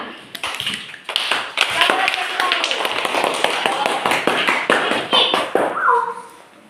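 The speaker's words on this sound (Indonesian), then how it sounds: "Tepuk tangan." A classroom group gives brisk, dense applause in an Indonesian lesson, with many close hand claps in a fast irregular patter lasting several seconds and voices mixed in.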